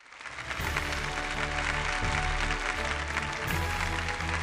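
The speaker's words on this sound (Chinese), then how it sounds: "掌声有请" An audience applauds to welcome a speaker on stage, a dense, steady wash of clapping that holds for several seconds over a low, sustained musical backing.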